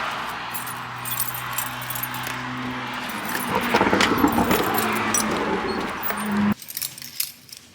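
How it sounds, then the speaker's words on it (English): Keys jangle close by for several seconds, a bright metallic clinking over a steady outdoor background with a passing vehicle's rumble, as someone gets ready to start a car at a Good Guys car show in Columbus. "Keys."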